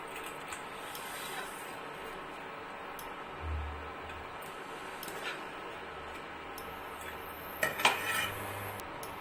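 Fried cashews and raisins being spooned from a pan onto a plate, steady faint frying hiss underneath with scattered metal spoon scrapes and a cluster of sharper clinks near the end.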